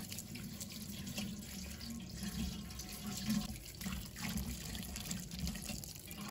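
Peeled luffa is rinsed under a running kitchen tap, giving a steady, soft splashing of water into a sink throughout with slight variations as the vegetable is turned under the stream.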